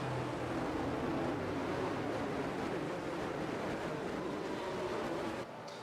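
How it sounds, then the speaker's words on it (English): A computer cooling fan whirs in a warm room, a steady broadband rushing hum with no break, held at a moderate level until a slight dip near the end. "Apologies for the fan noise in the background."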